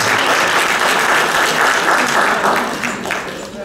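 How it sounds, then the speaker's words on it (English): A church congregation claps together during a Black History program, steady and full applause throughout with a slight dip near the end. "Another round of applause."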